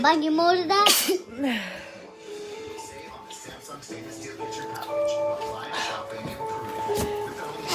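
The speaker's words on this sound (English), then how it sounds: "You just sneezed in my face." A child gives a sudden, sharp sneeze close by near the start, amid lively indoor family chatter with several voices talking and a soft tonal hum underneath.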